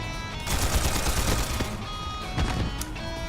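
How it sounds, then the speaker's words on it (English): Old antique gun firing in the video game Trails Beyond the Horizon: a dense burst of rapid shots and cracks over a steady roar, with a sharp report near the end. "Never thought I'd be the one to fire this old antique."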